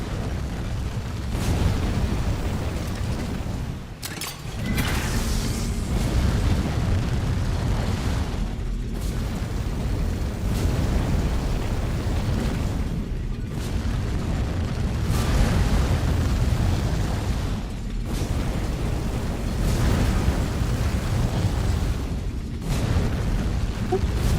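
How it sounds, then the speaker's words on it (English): Fire roaring in the sci-fi horror game Dead Space, a loud, steady, dense rumble with periodic brief dips and bursts, continuing without pause. "Oh, fire. Why is there fire? That seems bad."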